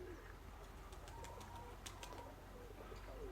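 Pigeons coo softly amid a flurry of fluttering and chirps, with constant low rumbling background noise outdoors.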